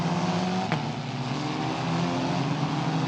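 A Formula Regional race car on wet tyres heads back out onto the Imola circuit, its engine giving a steady loud drone with a brief sharp blip partway through. Race ambience is mixed in, with no clear speech.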